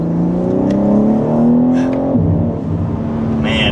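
A 2025 BMW M3 Competition engine revs high, its pitch climbing steadily under acceleration before dropping sharply at a gear change and building again. The engine is loud and close, with no talk.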